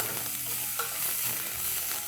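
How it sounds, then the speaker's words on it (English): Red onions saute on high flame in a pan with cloves and cinnamon, making a close, steady sizzle with light scraping from stirring, no speech. "Let's saute this on high flame."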